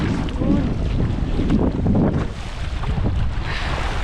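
Strong sea waves slap and wash around a kayak in Big Lagoon, Palawan, with choppy water splashes close by and heavy wind buffeting the microphone throughout.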